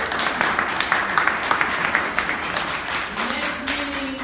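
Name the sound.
audience applause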